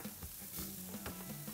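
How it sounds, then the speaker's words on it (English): Fat on small lamb T-bones sizzles and crackles quietly on a hot grill, a faint steady frying hiss with small pops. "That fat's still sizzling."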